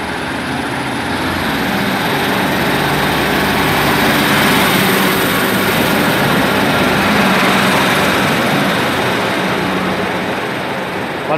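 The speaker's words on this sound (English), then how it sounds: "departing out now is 156483 on the 10:52 service to Matlock" A Class 156 diesel multiple unit departs Derby station, its diesel engine droning loud and steady throughout with a broad, even hum and no voices.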